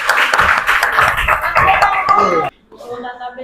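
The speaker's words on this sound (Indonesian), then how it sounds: "Tepuk tangan buat kelompoknya." A classroom group claps for a presenting group during a school lesson, a burst of dense, overlapping hand claps mixed with talk and chatter that stops abruptly, leaving quieter voices.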